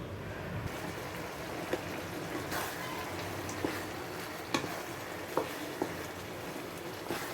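A pot of kodo millet kichadi boils on the stove, giving a steady low bubbling hiss with faint scattered pops and clicks throughout, moderately close and alone.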